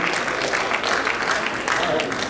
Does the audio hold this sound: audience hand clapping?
yes